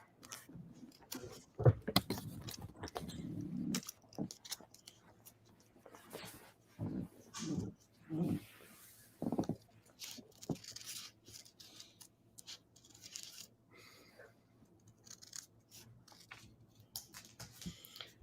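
Scissors snip paper while a kirigami leaf is cut out with ornamental shapes along the sides, giving a series of short, close crisp cuts and rustles with quieter gaps between them.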